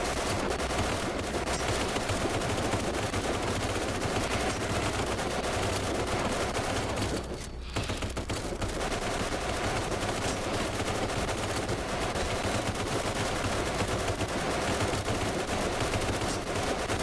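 Sustained turret gunfire in the Kinki Spiritual Affairs Bureau video game, a 360-degree mounted gun firing long dense bursts that fill nearly the whole stretch, with one brief pause midway before the rapid shots resume loudly.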